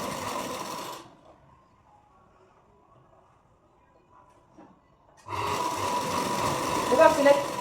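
A sewing machine runs in two loud, steady bursts stitching a blouse, a close rapid whir that stops for a few quiet seconds in between before starting again.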